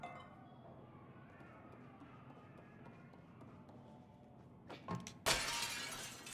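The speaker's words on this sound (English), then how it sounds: "We're going to pick this glass jar up and break it." A glass jar shatters in the video game Little Nightmares II, a sudden bright crash after a few soft knocks, ringing over a low, murky ambient game background.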